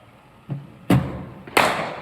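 A cricket bat strikes balls fed from a bowling machine in a net session: three separate sharp knocks, the last two loud and close with a brief ringing tail, no talk.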